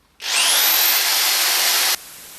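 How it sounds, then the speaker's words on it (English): A power file grinds away excess set glue from wood in one steady, high-pitched abrasive whine that starts abruptly, holds evenly for under two seconds and then cuts off, leaving a faint hum. "we will use the power file to remove the excess"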